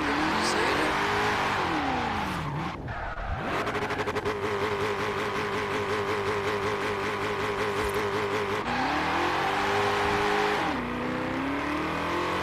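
A Camaro's engine hums and revs steadily in a driving video game, its pitch dipping and climbing with gear changes and turns, loud and continuous throughout with no talk over it.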